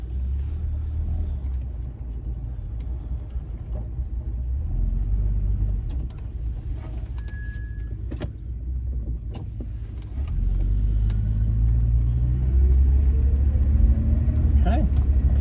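A car pulls away and drives at low speed, with engine rumble building steadily toward the end as a person talks over it.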